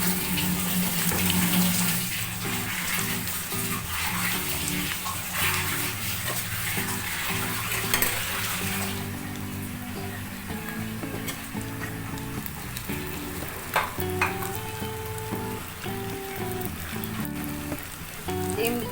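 Eggs sizzle loudly in a frying pan while being stirred, a continuous close crackle with occasional scraping and clinks running the whole length, no voices heard.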